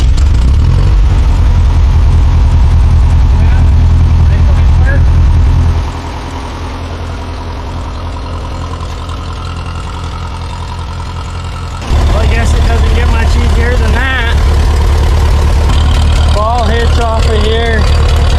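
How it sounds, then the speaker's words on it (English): An old, rusty tractor engine idles loudly and steadily, its rumble dropping as the throttle is eased off, then climbing again; someone talks over it near the end. "You can throttle it up and it'll just go back to an idle."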